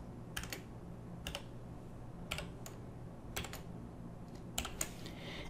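Keys tapped on a computer keyboard while entering a CAPTCHA during account sign-up, heard as short separated bursts of clicks spread across the span, close and clear with no talking.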